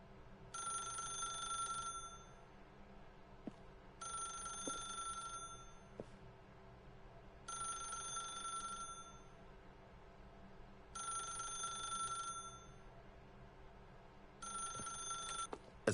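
Telephone ringing in the video game The Stanley Parable: five evenly spaced ring bursts of about a second and a half each, separated by pauses, steady and moderately loud with no talking.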